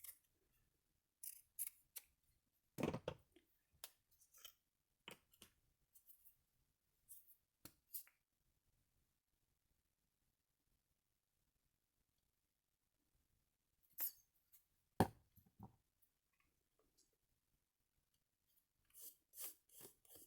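Scissors snip through paper or cloth while assembling a Van Gogh-themed art journal, a handful of quick close cuts in short bursts with long quiet gaps between.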